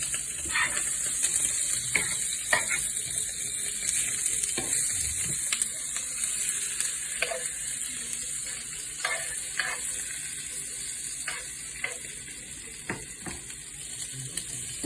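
Asparagus being stirred in a hot skillet, with a steady bright sizzle throughout and scattered scraping clicks of the utensil against the pan, close and continuous with no talk.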